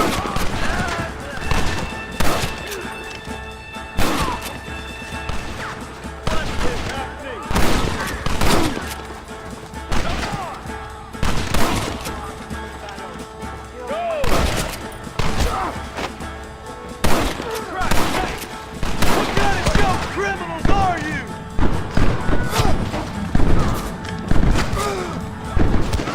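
Gunfire in a Red Dead Redemption battle at a gate: repeated close rifle and pistol shots in bursts, with thuds and crashes, over the game's music and shouted voices.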